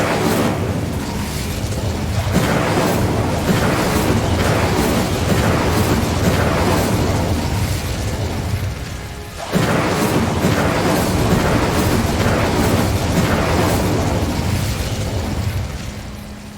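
A fiery Incendio spell is cast in Hogwarts Legacy, a loud roaring burst of flame that surges continuously, briefly drops off near the middle, then erupts again and sustains before fading.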